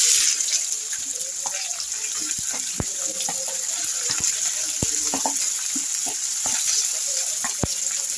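Capsicum pieces sizzle as they fry in a pan, a steady hiss broken by frequent clicks and crackles, with faint spoken remarks now and then.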